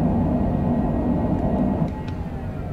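Thrust reversers roar on a Cessna Citation Longitude business jet during its landing rollout in a flight simulator, a steady loud broadband rumble that holds throughout and eases slightly near the end.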